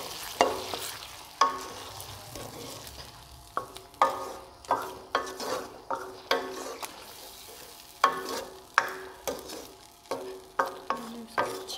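Spoon stirring chicken karahi in a hot pan, a steady series of scraping strokes with a light sizzle of frying underneath, close and clear with no talking.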